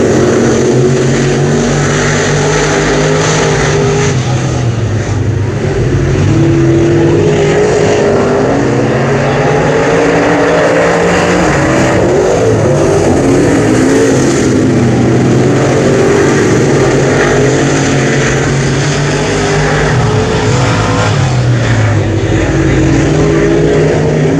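Race cars at Brownstown Speedway roar back to speed on a restart during the Scott Patman Memorial, a dense, continuous loud engine drone from a pack of cars filling the whole stretch, with a faint announcer voice beneath.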